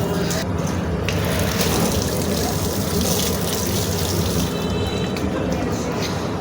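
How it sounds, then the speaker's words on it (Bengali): Water runs steadily from a tap as hands and feet are washed before entering the Kolkata ISKCON temple. The close, continuous splashing carries on throughout, with faint voices in the background. "মন্দিরে প্রবেশ করার পূর্বে হাত পা ধুয়ে তারপরে মন্দিরে এখন যাব"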